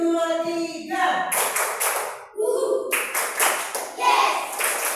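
Groups of children clap in counted rhythmic bursts, several sharp claps in quick clusters separated by sung or chanted voices, close and fairly loud.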